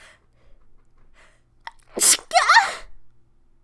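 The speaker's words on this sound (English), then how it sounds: "I think I'm gonna sneeze again." A single sharp sneeze after a short breathy intake, close and loud, then quiet.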